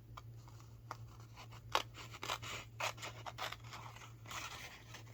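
Scissors cutting paper for a journal: a series of soft, close snips and crisp slicing strokes, irregularly spaced and fairly quiet, over a faint steady background hum.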